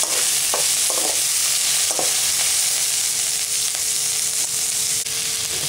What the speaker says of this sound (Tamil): இப்போ தக்காளி கொஞ்சம் சேர்த்துக்கலாம். ஒரு நிமிஷம் வதக்கணும் போகிறோம்.